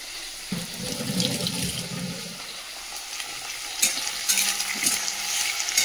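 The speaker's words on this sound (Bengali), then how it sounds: "দাঁড়া হাতটা ধুই" Tap water runs and splashes into a kitchen sink as hands are washed, a moderate steady hiss beside a pan where prawns and onions are frying.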